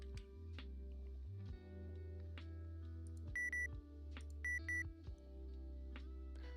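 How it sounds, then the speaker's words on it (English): Two short electronic beep pairs from a trading software alert ring out clearly over steady background tones, loud and close with no talk. "You ready to hear the beep sound, y'all?"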